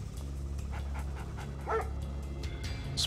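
Attack dogs in the Red Alert 2 strategy game, several quick barks and yips over a low steady game hum, fairly close, with no speech.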